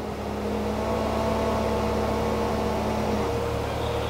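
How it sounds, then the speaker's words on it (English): Front lift on a 2022 Chevrolet Corvette Stingray raising the nose, a steady electric whir or hum heard from inside the car, held evenly for a few seconds with no voices. "There's also this button here that actually lifts the front of the car on command to help clear speed bumps."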